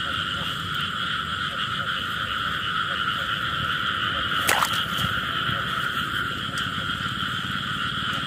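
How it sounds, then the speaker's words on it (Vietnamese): A loud chorus of frogs calls on a rainy night early in the wet season while they pair up, the steady croaking broken once by a sharp nearby knock. "Sao cái mưa ếch nhiều lắm các bạn."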